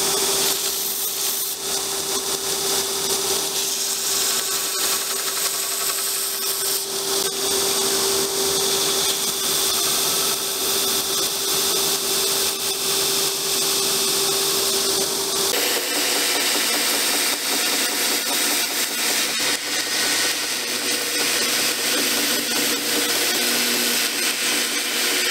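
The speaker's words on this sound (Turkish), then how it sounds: "Oğulcan Usta bant zımparayla kabzanın tüm yüzeylerini düz ve pürüzsüz hale getiriyor." A belt sander grinds steadily against a wooden knife handle, flattening and smoothing every face in one continuous abrasive whir that shifts pitch partway through as the pressure or angle changes, with no talk over it.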